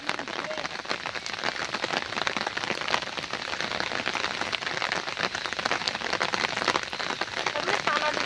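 Steady rain falls on a river during net fishing for tiger prawns and crabs, a dense continuous hiss of drops on the water that carries on evenly at a moderate level with no clear talk over it.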